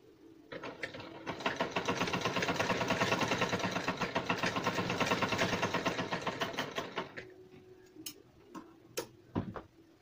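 A sewing machine stitches along the edge of cloth scraps to make lace, running a rapid, steady mechanical clatter for several seconds before stopping, followed by a few isolated clicks and knocks.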